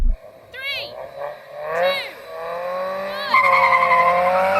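Supercharged Mazda MX-5 Roadsters launch in a drag race, engines revving hard with rising, shifting tones and sharp upward sweeps between gear changes, loud and close, a voice cutting in over the engine noise.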